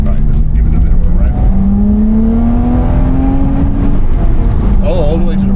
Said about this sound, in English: Right, let's give it a bit of a rev.